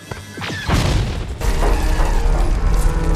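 Buzz Lightyear in Toy Story 2 shoots a crystal that scatters lasers: a couple of quick zapping shots lead into a loud crash and a dense, rumbling burst of sustained noise, with no talking.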